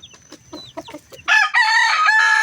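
Chickens at a morning feeding: soft pecking and clucking open the clip, then a loud, close rooster crow rings out for over a second, with no talk.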